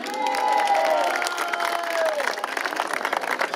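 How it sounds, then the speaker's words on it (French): An outdoor crowd at a sheep transhumance festival in Jaujac claps and cheers for a song, steady dense applause with a brief whistle-like tone over it early on. "Vous pouvez applaudir très très fort Monsieur Vidal pour sa magnifique chanson"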